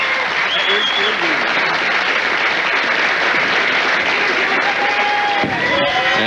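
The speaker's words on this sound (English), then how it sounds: "the first-time winner gets a well-deserved standing O" A packed crowd at Taylor Lanes bowling center gives a first-time PBA Tour winner a standing ovation at the 2001 PBA Greater Detroit Open, with loud, steady applause and cheering throughout and a voice faint beneath it.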